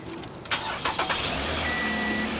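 A flood-damaged keyless car starts by push button, with a few quick cranking bursts that catch and settle into a steady idle, heard close up.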